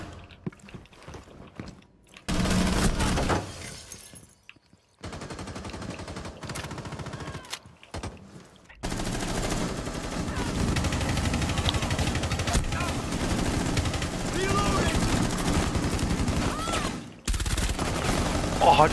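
Rapid gunfire in Rainbow Six Siege, long dense stretches of shooting and clatter broken by brief silences, loud and close, with a voice talking over parts of it.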